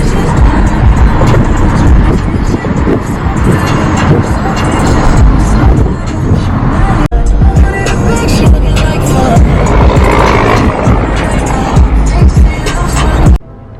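A car interior during a long drive on a real estate agent's workday, steady loud road rumble and engine drone throughout, with a voice mixed in and a brief cut partway.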